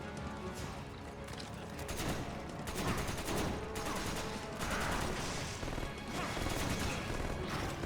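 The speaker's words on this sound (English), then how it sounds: "Can you quit shooting me?" Gunfire rattles through a Resident Evil game as repeated sharp cracking shots come in quick, uneven bursts, fairly faint and dense throughout.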